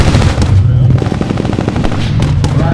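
Heavy machine gun at a Gulf War tank battle reenactment fires in a continuous loud burst of rapid, densely packed reports for the whole stretch, with no pause between shots.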